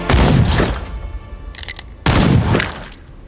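Two loud gunshot-like blasts from a film, one at the start and another about two seconds later, each with a booming low-end tail, separated by a short burst of brighter crackling.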